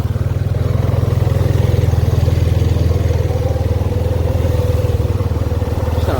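A Honda motorcycle engine runs steadily and loudly up close, a deep continuous drone with a rapid pulsing throb that holds even throughout, with no voices.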